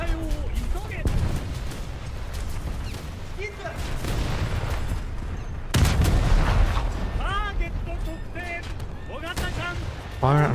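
Warship guns in a naval frigate combat video game fire at several targets, booming reports repeating through a dense, noisy battle mix while someone talks over much of it.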